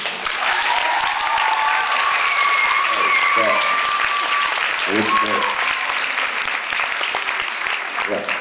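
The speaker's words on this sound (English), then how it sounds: "Clap your hands a little." Audience at a live show clapping hands in a steady, dense wash of applause that fills the whole stretch, with some voices faintly mixed in.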